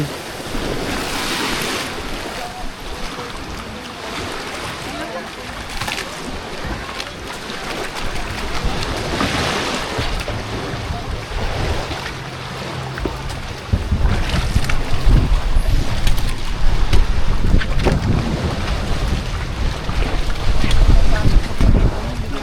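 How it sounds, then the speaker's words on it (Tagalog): Strong sea waves crash and churn around a moving boat headed to Mantigue Island, Camiguin, with steady wind noise buffeting the microphone and an engine droning low underneath. "Lakas ng alon."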